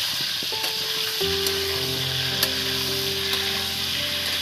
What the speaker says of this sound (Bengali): আলুটাকে আমি ভালো করে একদম এই তেলের মধ্যে একদম নেড়ে চেড়ে ভেজে নেব বন্ধুরা